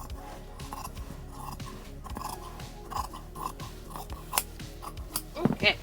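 Scissors cutting broadcloth fabric pieces to size, a series of quiet close snips and rustles, faint and irregular, growing sharper toward the end.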